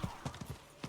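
A horse's hooves clip-clop in a steady rhythm of about five quick strikes in the game Diablo 4, moderately loud against a soft background with no talking.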